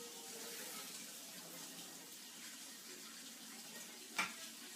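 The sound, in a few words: rinsing rice in water under the tap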